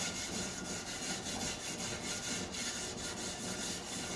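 A scratchy scrubber rasps back and forth across a sticky fig-residue pot, a steady rough rubbing in a regular rhythm, faint but continuous with no talk.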